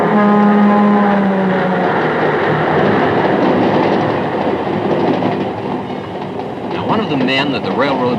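A loud old railroad engine rumbles steadily past, with a long low horn blast at the start and squealing, shifting tones toward the end.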